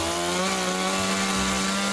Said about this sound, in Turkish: İşte bunları bu motorlu bıçkıyla, motor testereyle parçalayacak.